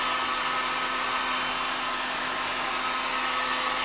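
Heat gun blowing a steady stream of hot air while warming a piece from the back, a constant close whoosh with no pauses and no talking.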